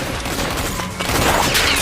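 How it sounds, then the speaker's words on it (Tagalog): Gunfire bursting in a dramatic scene as a fleeing man is shot in the back, a dense, continuous barrage of loud shots filling the short moment with no talking. "Habang mabilis na tumatakbo si David, tinamaan siya ng baril ang biglang tumama sa kanyang likod"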